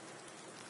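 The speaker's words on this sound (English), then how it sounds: "Okay, so we have a rain in that race." Steady, faint rain hisses evenly through a Project Cars 2 Formula Renault race at Hockenheim National, a uniform wash with no other distinct sounds.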